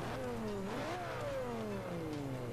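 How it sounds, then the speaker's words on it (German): Turbocharged car in the racing game Forza Motorsport 5, engine tone rising and falling with gear changes and a steady hissing, rushing turbo whoosh over continuous engine drone. "man hört den Turbo schön fauchen"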